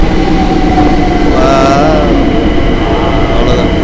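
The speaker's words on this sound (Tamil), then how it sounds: "ட்ரெயின்" A London train rumbles loudly and steadily close by, its wheels grinding and squealing faintly partway through, with no talk.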